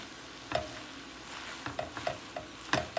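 Stem amaranth greens are added to shrimp frying in a pan and stirred, giving a quiet sizzle broken by several sharp utensil scrapes and clicks near the start, middle and end.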